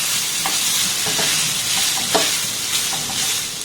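Grated boiled potato is stirred and fried in a pan over a low flame, giving a steady close sizzle with soft scraping and spatula knocks at irregular intervals, no voices.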